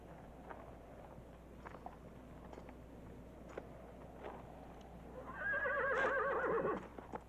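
A horse gives a single clear whinny that rises and wavers for about a second. Faint hoof shuffles and outdoor ambience from a Western setting sit underneath.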